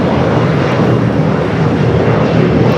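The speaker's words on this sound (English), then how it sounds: "The flight Qantas Freight flight heading to Honolulu should be taking off here shortly" A Qantas Freight cargo plane bound for Honolulu takes off at Los Angeles International Airport, its engines roaring loud and steady throughout with no voices.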